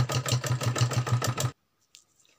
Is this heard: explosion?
no